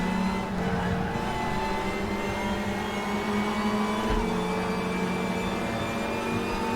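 A race car in the RaceRoom racing game revs under load with a steady engine whine and a brief gear-change dip midway, loud and continuous with no talk.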